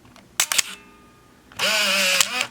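A Canon Sure Shot 35mm film camera fires its shutter with the light sensor blocked. A short double mechanical clack is followed by a long, loud, close whirring motor run of about a second.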